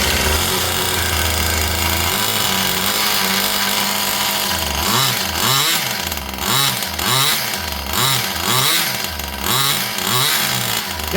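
A cold Volkswagen Super Beetle engine running rich while warming up: a loud, rough idle that soon breaks into repeated uneven revs and surges, close and alone.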